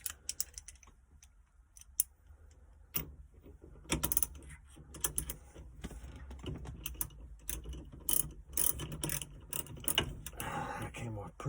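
A wrench works loose a 3/4 inch bolt on a 1968 GTO steering wheel, giving irregular close clicks and ratcheting taps with metallic handling noise, fairly quiet throughout.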